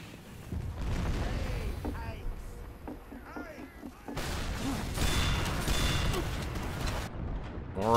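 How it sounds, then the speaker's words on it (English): Rocket blasts in Team Fortress 2 on the 2Fort map, a dense chaotic stretch of booming explosions and combat noise, loud and continuous, with a second heavy burst of blasts midway. "More rockets."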